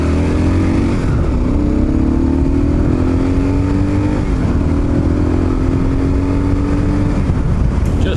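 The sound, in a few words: Kawasaki KLR 650 motorcycle engine running while riding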